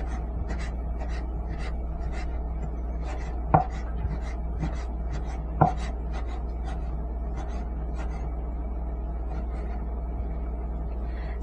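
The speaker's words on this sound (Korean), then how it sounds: "이렇게 해서 고기 채 썰어 두었고요." A knife cuts beef into thin julienne strips on a board for bibimbap, with a fast, regular series of close, light chopping taps over a steady low hum, plus a couple of louder knocks.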